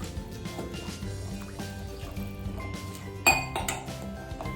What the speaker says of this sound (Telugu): ఇప్పుడు దాంట్లోకి మనం వాటర్ పోయాలి.